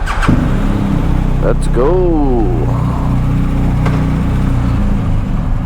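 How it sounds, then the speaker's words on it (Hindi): A touring motorcycle's engine starts and revs before pulling away on a Paris street, a close, rising engine sweep over a steady idle rumble, with someone speaking briefly over it. "let's start our bike"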